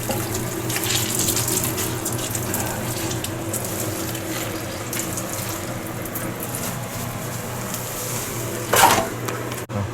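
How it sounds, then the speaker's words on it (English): Salted cabbage being rinsed under a running kitchen tap, a steady splashing water stream throughout with a brief louder splash near the end, no talking. "Rinse it up pretty well."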